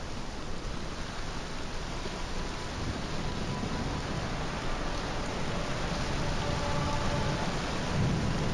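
Steady heavy rain in the video game Morrowind hisses without a break, with a low thunder rumble rolling underneath, continuous and fairly loud.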